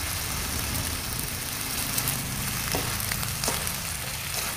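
Long beans sizzle steadily as onion goes into a hot frying pan, a continuous close frying hiss with a couple of faint clinks, no voices.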